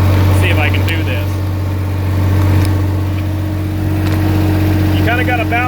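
Diesel engine of a backhoe running at a steady, loud rumble with a strong low hum, swelling slightly as the throttle and floor accelerator are worked, while someone talks over it.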